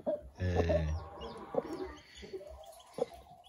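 A broody Barred Plymouth Rock hen clucks near newly hatched chicks, with a long low throaty cluck and then softer, spaced single clucks, close and fairly quiet.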